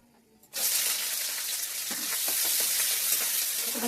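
Dried red chillies hit hot oil with a sudden loud sizzle that holds steady and close, a crackling hiss with faint stirring underneath, no voices.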